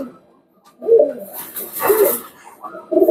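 Teddy pigeons, a high-quality breed, coo in low, soft, throaty bursts, with three separate calls spaced about a second apart at close range.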